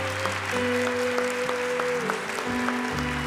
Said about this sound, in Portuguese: Então eu queria que você aplaudisse a decisão desse seu irmão.